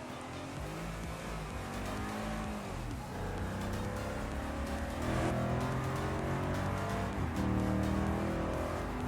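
A 5.5-liter V8 in a driving video game roars at full throttle, holding a loud, continuous howl with rising and falling revs and brief tire squeal, heard close and alone.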